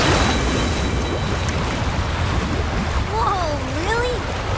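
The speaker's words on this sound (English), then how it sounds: "That's a really big waterfall." A huge waterfall in the video game Wuthering Waves roars as a loud, steady rush of water, with a voice briefly heard over it near the end.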